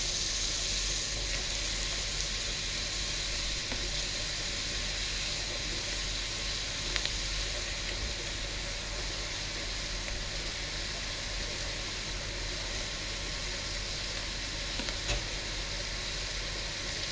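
Peppers, courgettes and aubergines frying for ratatouille in a hot pan give off a steady, even sizzling hiss that runs unbroken from start to finish, with no voices.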